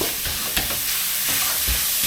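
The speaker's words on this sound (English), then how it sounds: "Listen to that sizzle." Ground beef sizzling loudly in a hot pan, a continuous crackling hiss with occasional scrapes and knocks of a utensil stirring it.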